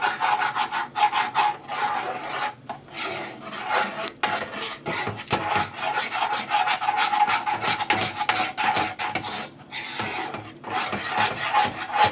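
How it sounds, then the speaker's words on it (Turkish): A spoon or spatula stirs a thick milk mixture in a pot, giving close, continuous scraping and rubbing strokes in a steady rhythm with brief pauses. "Ve karıştırmaya devam ediyoruz."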